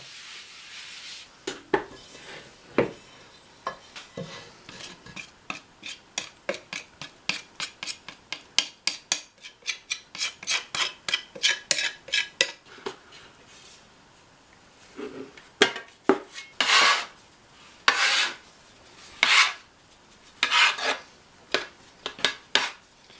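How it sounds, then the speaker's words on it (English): Paczki dough kneaded by hand on a floured board, a long run of rhythmic thumps and pressing rubs, close and steady, growing heavier and more spaced toward the end. "Now we're going to be kneading it until it forms into a ball"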